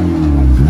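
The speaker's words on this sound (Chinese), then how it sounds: "并且试着轰了轰油门" A 2015 ninth-generation Honda Civic Si engine revving loudly and close, a strong rising throttle blip with a steady tonal drone and no talk.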